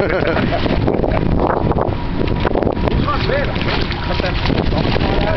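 Strong wind buffets a fishing charter boat on the south shore near Captree, a loud continuous roar and rumble filling the whole stretch with voices faintly mixed in.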